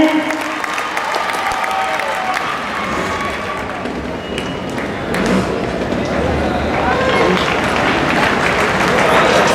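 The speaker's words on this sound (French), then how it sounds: "Ça mérite de l'applaudissement." Spectators at a sports final in Marseille clap and cheer in a loud, building roar, with shouts rising over dense applause while a commentator's voice runs underneath.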